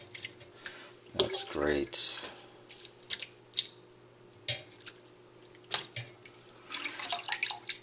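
Cooked ramen noodles cooling in a cold water bath in a kitchen, with dripping and splashing water, squishy handling and a running tap in bursts, while a person speaks briefly.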